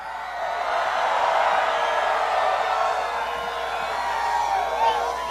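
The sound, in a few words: crowd cheering at a Trump rally in Phoenix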